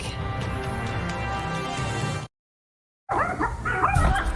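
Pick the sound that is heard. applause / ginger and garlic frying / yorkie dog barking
yorkie dog barking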